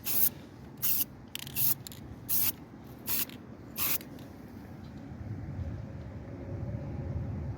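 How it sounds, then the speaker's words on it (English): Short aerosol spray bursts, about six in a row, painting a scratched 2020 Alfa Romeo wheel rim with a light blending coat; the bursts stop and a low rumbling background remains. "spraying the entire rim. So just a light coat to let it blend"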